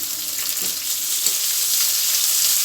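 Tomatoes fry in hot oil for potato masala with a constant bright sizzle and crackle, close by, with occasional soft stirring sounds and no talking.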